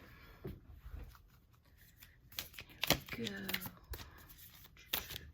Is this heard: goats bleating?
no